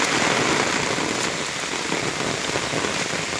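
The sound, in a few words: heavy rain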